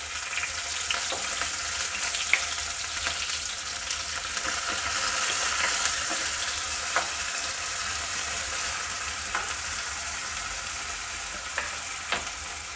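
Onion frying in a pan for a bell pepper curry, a continuous close hiss of sizzling oil with scattered light stirring clicks, no voices.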